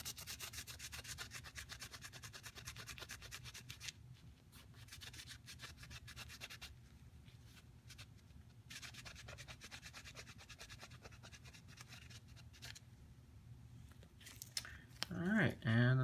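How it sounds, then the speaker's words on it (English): Steady close rubbing and scrubbing as rust is worked off a gun, a continuous abrasive scratching that runs throughout, with a brief voice at the very end. "try rubbing the rust off here"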